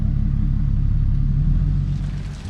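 A Toyota Supra roars steadily on a dyno, a dense low rumble holding near and loud for the whole stretch, easing slightly toward the end.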